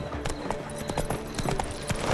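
A horse gallops in The Witcher 3 video game, with steady, rhythmic hoofbeats at a moderate level over faint background game sounds.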